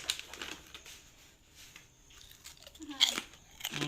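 Crunchy Thai sea fish rice crackers being bitten and chewed, a few sharp close crunches scattered among quiet pauses, with some faint talking nearby.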